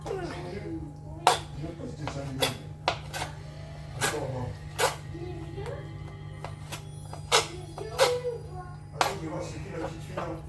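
A knife chopping food into small pieces on a board while making a skillet gratin; sharp, irregular thunks and taps come at a moderate pace over a steady low hum, close and clear.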